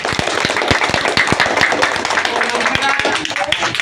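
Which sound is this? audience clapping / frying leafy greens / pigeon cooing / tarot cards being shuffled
audience clapping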